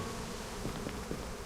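A bee buzzes steadily within the Psychonauts 2 video game, a continuous insect drone with faint fluttering pulses, heard alone without any talk.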